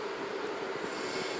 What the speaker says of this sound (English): I've got the fan on. That's probably the noise you can hear